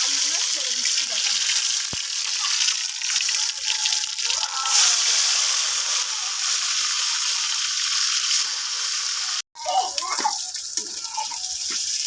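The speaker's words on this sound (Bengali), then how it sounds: "দেখো আমি আলুগুলোকে ভেজে নিচ্ছি" Potatoes frying in hot oil in a wok give a steady, loud bright hiss of sizzling that runs almost without a break, with a brief dropout near the end followed by sharper crackles.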